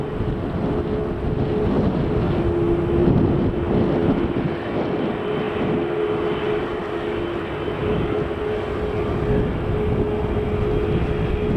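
A Juneyao Air Boeing 787 Dreamliner taxis toward the runway at Manchester Airport, a steady engine roar with a sustained whine, loud and continuous throughout.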